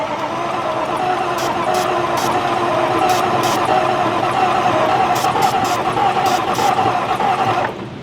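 A 2015 Range Rover engine is cranked over, giving a loud, continuous mechanical churn that holds steady for about eight seconds before cutting off.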